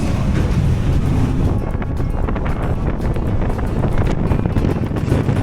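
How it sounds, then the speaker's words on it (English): Wind blowing across a boat deck on a hunting trip in New Zealand, a constant rough roar buffeting the microphone with low rumble and possible water wash beneath, no talking. "Little windy, just windy."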